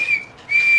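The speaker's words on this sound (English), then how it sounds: "it's a bag holder with whistle." A small plastic toy whistle from a Thomas the Tank Engine Happy Meal toy, blown twice in quick succession: a steady, shrill, close tone broken by a short gap.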